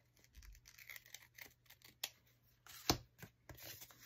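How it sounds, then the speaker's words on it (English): Scissors snipping the edge off a paper piece for journal ephemera, a series of faint, quiet crisp cuts and rustles at close range with no talking. "So I'm just going to cut this little edge off."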